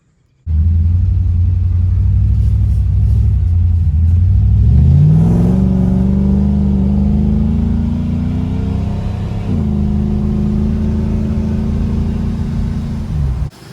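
An LS V8 swapped into a BMW E90 330i idles with a deep, loud exhaust rumble, then revs up and holds at a raised, steady drone before easing slightly, close and with no talk.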